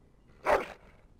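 One short, loud bark from a dog in the video game Dragon Age: Origins, a single close woof over a quiet background.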